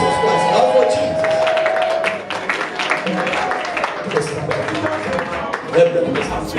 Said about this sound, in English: Let somebody shout a louder amen as we give them, as we clap for Jesus Christ. Clap for Jesus.